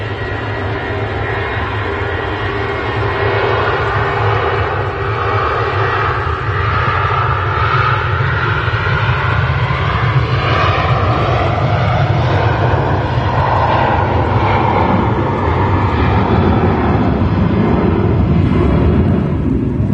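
A Jet2 airliner takes off at Manchester Airport, a loud, steady engine roar that swells gradually and holds for the whole stretch, with no talk over it.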